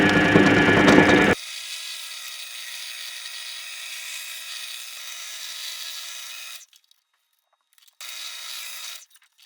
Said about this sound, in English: 5mm drill bit, and this is a lip and spur drill bit